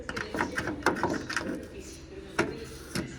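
Rivets being set on a door latch assembly of a 1999–2014 Ford E350, heard as a rapid series of sharp metallic clicks and ratcheting snaps, close up, with short pauses between bursts.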